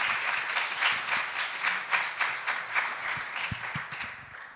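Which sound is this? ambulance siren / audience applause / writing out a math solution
audience applause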